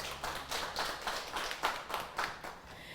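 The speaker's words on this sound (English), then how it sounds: "Let's give her a round of applause." Scattered hand clapping from a small audience honoring a mother at a celebration, a short run of distinct claps at a moderate, uneven rhythm, fairly faint and without voices.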